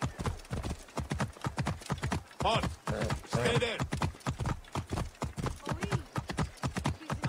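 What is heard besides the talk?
horse hooves galloping in Assassin's Creed Origins video game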